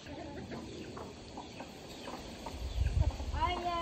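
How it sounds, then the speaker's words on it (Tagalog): Backyard chickens cluck and murmur softly at close range, a few short calls scattered through the moment, with a louder burst of low rustling and a rising bird call at the end. "Ano ba yung mga manok ko?"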